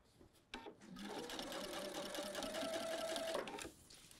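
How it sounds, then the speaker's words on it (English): A sewing machine stitches a fabric seam for a fly front zipper at a 5/8 inch allowance, its motor running as a steady, close, continuous whir for about three seconds and then stopping, with no talk over it. "And now I'm gonna sew at 5/8 of an inch."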